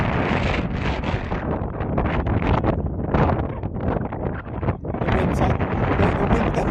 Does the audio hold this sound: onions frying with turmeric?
no